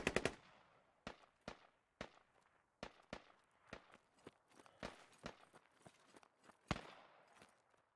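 Gunfire in the video game Squad: sharp close shots and short bursts crack irregularly, some louder and nearer, others fainter, with no talking.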